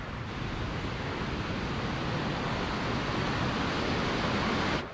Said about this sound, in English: I can hear the roar of some water.